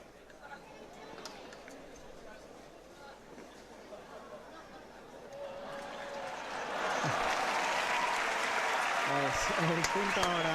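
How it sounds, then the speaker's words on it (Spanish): Applause for a winning point at the Ribera tennis court in Luanco swells from a murmuring crowd into loud, sustained clapping, with a commentator's voice running over the scene. "El punto ahora de Miguel Avendaño, que levanta los aplausos de toda la pista de la Ribera"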